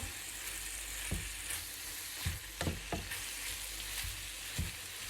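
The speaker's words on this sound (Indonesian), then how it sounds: "Kita aduk-aduk sebentar." Thinly sliced meat and vegetables stir-fry in a pan with a constant close sizzle, while a spatula scrapes and knocks against the metal in a few irregular strokes.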